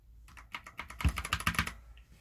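Quick bursts of keystrokes on a computer keyboard, close and clear, starting sparse and then building into a rapid clatter of taps before stopping.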